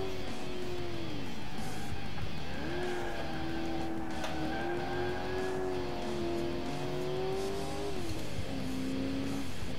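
A car in the video game Alarm für Cobra 11 Highway Nights drifts with a steady engine drone whose pitch rises and falls through gear changes, while tires squeal at moderate loudness and no one speaks.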